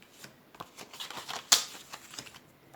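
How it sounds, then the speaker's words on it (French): Small paper cards being peeled off a card-making surface, giving soft crackly rustles and faint taps with one sharper tearing peel in the middle, close and quiet. "Alors, je vais décoller mes petites cartes."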